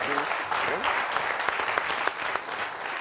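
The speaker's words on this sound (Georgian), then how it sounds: "აპლოდისმენტები შეიძლება" An audience at a comedy game show bursts into applause, dense continuous clapping from a crowd throughout, with a voice briefly audible over it.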